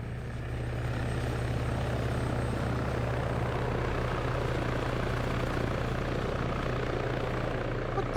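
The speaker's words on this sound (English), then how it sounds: "That heli's still up." In an SCP Anomalous Device Recovery game session, a helicopter drones steadily overhead, a constant loud rotor and engine hum holding unchanged for the whole stretch.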